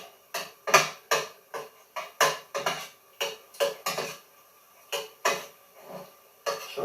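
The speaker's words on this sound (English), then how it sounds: "Now I can stir in my ingredients. My ground beef and my onions and green peppers." Ground beef, onions and green peppers stirred in a pan, a run of distinct spoon scrapes and knocks against the cookware, roughly a dozen in an uneven rhythm, close and fairly quiet, without voices.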